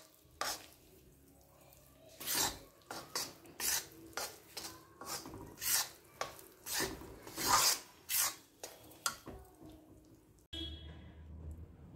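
Roasted gram flour (besan) being stirred in a pan for laddoos, a steady rhythmic scraping and rasping of spoon against metal, repeated strokes close up with no talk, ending in a brief softer rustle.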